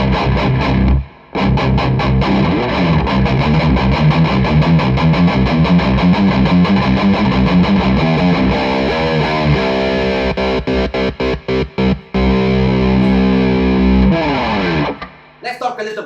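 Distorted electric guitar on a Nash T63 with a deeper, darker, muddy tone, playing loud continuous chords and riffs with brief choppy stops near the middle and a short break at the end.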